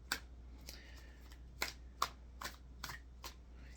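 A deck of tarot cards is shuffled by hand, giving soft, quiet riffling bursts in an uneven rhythm of about eight crisp flicks, with no voices.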